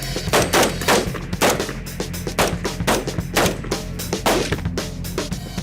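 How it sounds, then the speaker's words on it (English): Rapid gunfire at a police firearms training range, with a quick series of loud, sharp shots fired close by, some in tight bursts and others spaced out, carrying on for several seconds with no speech. "10 rounds in a 60-second exposure. Positional shooting."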